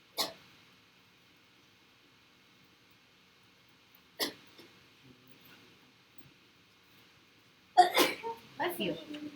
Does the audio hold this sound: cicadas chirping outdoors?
no